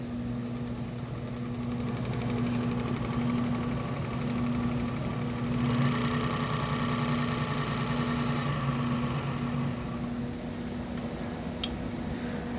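A LapMaster Wolters Model 12 lapping machine runs at a raised RPM, making a steady mechanical hum with a rattling vibration that swells briefly partway through before settling.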